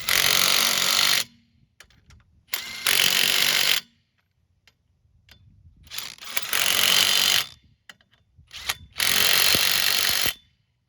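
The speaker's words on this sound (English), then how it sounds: "Go ahead and get this tire tightened back up." Lug nuts go back on a 2002 Pontiac Grand Am's steel wheel under a power tool in four loud whirring bursts of one to two seconds, with quieter clicks and rattles between them and no talk.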